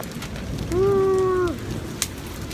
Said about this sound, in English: And now we're getting a second bout of hail.